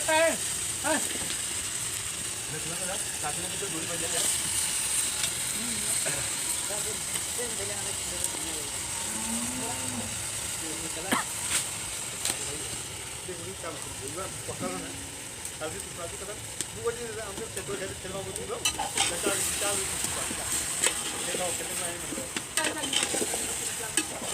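Fresh goat mutton, about 1.5 kg, fries in a pot while being stirred, with a steady sizzle broken by scraping, clattering stirs throughout and someone talking over it.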